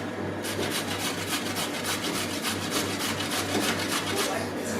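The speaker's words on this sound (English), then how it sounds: "My grater at home grates a lot finer than this, and I would like that one better." Carrots being grated by hand on a coarse kitchen grater in a home economics class, a steady run of rhythmic rasping strokes that continues throughout at a close, even level, with a constant low electrical hum underneath.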